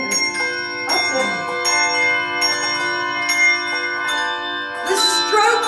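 A handbell sounds in a bell class with several clear strikes, each ringing out with a long shimmering sustain that overlaps the next, close and loud, with a brighter, busier strike near the end.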